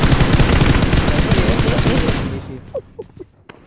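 Video game gunfire in a 3v2 match, a loud rapid burst of automatic shots with dense rattling that fades out, followed by a few scattered faint shots.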